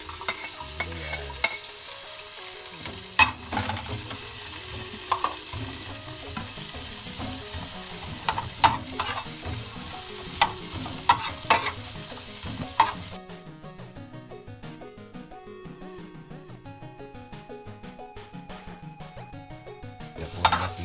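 Onions frying in a pan for pinakbet, a steady close sizzle with intermittent stirring scrapes and clicks throughout, the sizzle dropping quieter and thinner partway through, with no talking.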